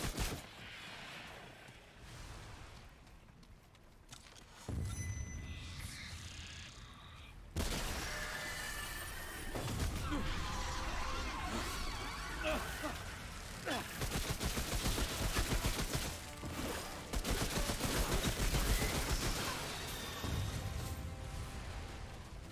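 Gunfire in the video game Remnant: From the Ashes, bursts of rapid shots and crashing impacts layered over a dense, loud game soundtrack, continuous for most of the stretch with no talking.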